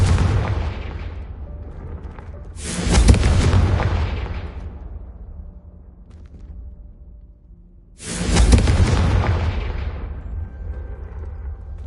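Two heavy booming blasts from the Confringo fire spell in Hogwarts Legacy, each a sharp whooshing impact trailing into a long rumbling decay, spaced several seconds apart over a low ambient game bed.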